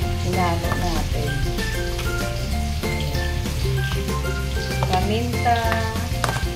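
Ulam simmering and sizzling in a pan, a continuous frying hiss under steady background music with occasional clinks.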